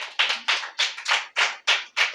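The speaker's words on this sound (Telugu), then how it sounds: "చప్పట్లు కొట్టండి సార్." A sermon audience claps about eight times in an even rhythm, each sharp hand clap ringing briefly with no talk over it.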